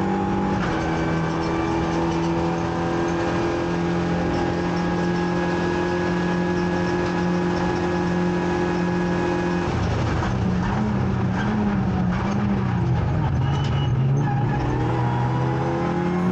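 Race car engine running on a circuit: a steady sustained drone close by with held tones, then a rougher shift in pitch and texture toward the end as the car is eased off.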